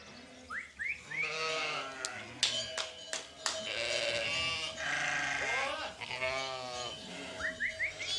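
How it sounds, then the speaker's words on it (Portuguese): Merino and Churra sheep with their lambs bleat repeatedly in an open spring field in Idanha, with overlapping calls near and far and a few faint clicks between them. "quando saem para o campo, as ovelhas dão balidos de contentamento, sempre acompanhadas de perto pelos seus borregos"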